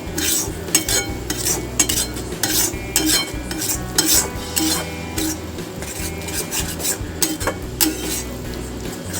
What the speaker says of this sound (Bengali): চিনিটাও মিক্স করে দেবো ভালো করে